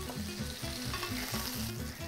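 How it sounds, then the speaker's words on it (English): Skinless fish fillet pan-frying in butter, giving a steady, close sizzle with crackling spatter that runs throughout without a break. "So I start frying the fish on this side for around 3 minutes."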